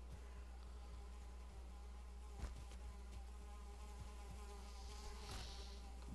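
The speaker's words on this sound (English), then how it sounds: "That is one powerful mosquito." A giant mosquito creature in the Valheim video game gives off a steady, droning insect buzz over a constant low hum, with a few soft clicks and faint thuds, and no talk.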